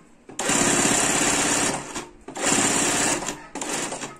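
A sewing machine stitches quilt patchwork blocks in three loud, close bursts of rapid needle clatter, separated by short pauses.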